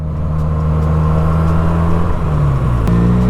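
Benelli 302S motorcycle engine pulling under throttle, a steady loud droning hum with a slowly shifting pitch and a brief dip near the end, heard up close with no talking.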